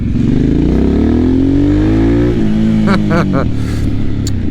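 A 2024 Harley-Davidson Sportster S with its exhaust valve open, the V-twin engine revving loudly and climbing in pitch in first gear before easing off, with a few sharp bursts near the end.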